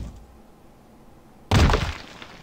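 Hammer smashing and breaking the ground in a video game, a single heavy crunching thud with crumbling debris that cuts in abruptly after quiet background and fades over a second.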